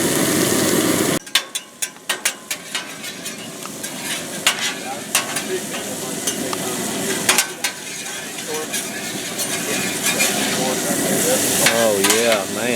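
Shrimp blacken on a hot outdoor cooker at a southern coastal crawfish boil. They make a continuous loud sizzle, broken by sharp metallic clanks and scrapes as the food is stirred early on, with a faint whirring underneath.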